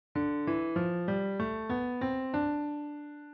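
A short melody in the Dorian mode, eight clear sustained notes stepping up and down in a steady rhythm, played alone on a pitched instrument, with no talking over it.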